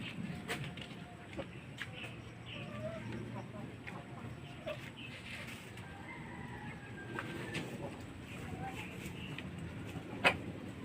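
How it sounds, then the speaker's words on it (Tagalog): Rhode Island roosters and other heritage chickens cluck and crow faintly in a backyard coop, with scattered bird calls and a person talking over the quiet flock. "Rhode Island na tandang."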